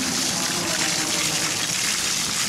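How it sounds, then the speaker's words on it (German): Water splashes and gushes steadily at a fitness trade fair (FIBO 2019), a dense, continuous rushing close by with no breaks. "Es plätschert!"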